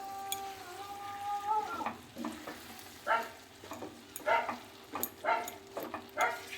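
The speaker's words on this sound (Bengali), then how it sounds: "আমি ভালো করে আবার একই সঙ্গে মিশিয়ে নেব ডাল এবং কচু শাক" Chana dal and taro leaves are stirred in a frying pan, a close, soft sizzle with repeated scraping strokes of the spoon in an uneven rhythm, and a dog barks faintly in the background.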